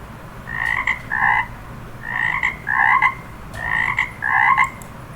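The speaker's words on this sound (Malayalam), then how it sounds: "ഇതുപോലെ നമുക്ക് നമ്മുടെ ഈ തവളയിൽ തൊട്ടാൽ തവളയുടെ ശബ്ദം" A frog croaks in three paired bursts, each a double call, loud and close with nothing else sounding, played back from a link on a worksheet.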